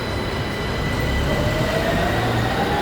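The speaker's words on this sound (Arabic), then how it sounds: "هاد البلان ديال الطوموبيله والترامواي كيدوزو في نفس الطريق" A tram rolling along a city street in Milan that it shares with cars, a loud continuous rumble of wheels on rails with a thin squealing tone rising from the track.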